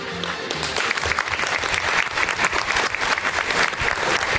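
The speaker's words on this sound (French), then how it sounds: "On peut les applaudir très fort" Loud, dense applause fills a gala hall at the Miss Excellence Oise 2019 pageant, a large crowd clapping steadily for the hairdressers throughout, with no voices on top.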